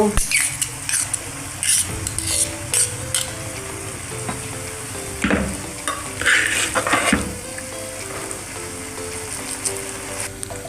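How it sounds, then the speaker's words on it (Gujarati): Cooked Kathiyawadi khichdi stirred in a pot, with repeated scraping and clinking strokes of a spoon over a soft sizzle, close and fairly steady throughout. "તો ખીચડી આપણે હવે મિક્સ કરી નાખશું."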